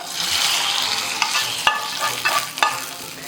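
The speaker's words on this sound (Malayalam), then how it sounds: "ഇതിലേക്ക് കുറച്ച് ഉണക്കമുളകും പിന്നെ കറിവേപ്പില എന്താ പറയുക കടുകും ഇട്ടിട്ട് നമ്മളൊന്ന് വറവ് ചെയ്തെടുത്തിട്ട്" A tempering of dried red chillies, curry leaves and mustard seeds crackles and sizzles in hot oil for mango curd rice, a loud close hiss with sharp spitting pops and scrapes near the end.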